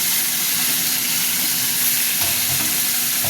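Fish heads frying in hot oil in a Bengali kitchen, a loud, dense, continuous sizzle with crackling spatter and occasional stirring, no voices.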